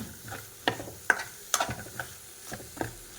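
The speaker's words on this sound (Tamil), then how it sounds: "இப்போ நம்ம நடுக்கி வச்சுருக்க உருளைக்கிழங்கு போட்டுடலாம் போட்டு நல்ல ஒரு கலர் கலர் விட்டுக்கோங்க" Potatoes fry in a pan for a Tamil salted dried meat curry, with soft sizzling and several sharp scraping stirs of a spoon against the pan at irregular intervals.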